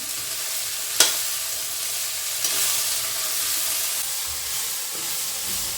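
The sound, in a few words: vegetables and rice mixture being sautéed in a pan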